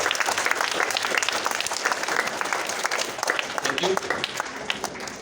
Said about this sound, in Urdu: ایک دفعہ ذرا زور سے تالی بجا دیں.